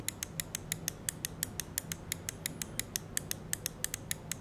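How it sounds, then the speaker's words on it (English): The primary buttons of a HyperX Pulsefire Haste gaming mouse click in a quick, even series of about two dozen crisp, close clicks, alone over a faint background hum. "The primary buttons are detached from the body and they feel really nice and clicky."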